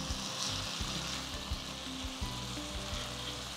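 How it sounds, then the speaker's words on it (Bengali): Cleaned snail meat frying with spices in a pan over medium-high flame, a dense close sizzle broken by repeated soft thumps and scrapes of stirring at a steady pace, with no one speaking. "গুগলির মাংসগুলো দিয়ে নেওয়ার পর এবার ভালো করে কষিয়ে নেব।"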